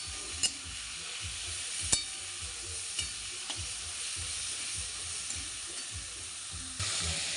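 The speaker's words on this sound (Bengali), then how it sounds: "যতক্ষণ ভাজা না হয় ভাজতে থাকবো" Shrimp sizzle in a hot kadai, a constant close frying hiss broken by occasional sharp clicks and scrapes of stirring.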